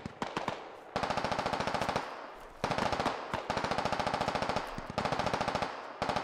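Sustained automatic gunfire from the Squad video game, with dense rapid bursts of machine-gun fire running in long loud stretches, broken by brief pauses and scattered single shots at the start.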